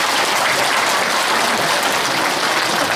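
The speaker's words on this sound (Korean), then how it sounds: "여러분 뜨거운 박수 부탁드립니다." Dense, steady applause from a large audience at a Korean civic gathering of citizen groups, loud and continuous without a break.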